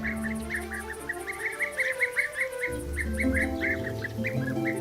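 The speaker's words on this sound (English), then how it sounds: "The European Beeeater." European bee-eaters calling, a rapid series of repeated liquid trilling chirps from several birds at mid distance, steady throughout over a low rumbling background, with no voices.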